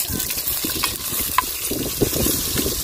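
Sausages fry in a pot over an outdoor fire, giving a steady close sizzle with scattered crackles and stirring scrapes throughout.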